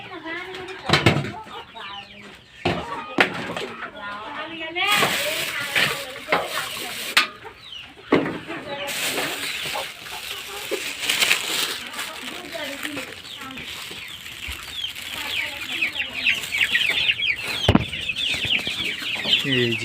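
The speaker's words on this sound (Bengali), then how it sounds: "মুরগির বাচ্চাগুলোকে এখন আদার দিব।" On a small egg-laying farm, hens and chicks cluck and peep almost continuously at close range, with bursts of busier calling and rustling as the young chicks are being fed.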